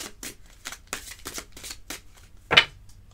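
Tarot cards being shuffled and drawn for a reading, a run of soft rapid riffling flicks ending in a sharper slap as one card is laid down, close and fairly quiet.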